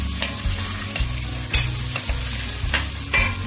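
A heaping spoonful of tomato paste sizzles in a pan for a chickpea and meat stew, a close, busy hiss broken by a few sharp stirring clinks and scrapes, with no voices.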